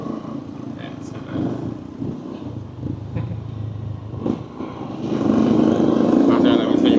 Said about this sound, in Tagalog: Sakay na kami ng motor.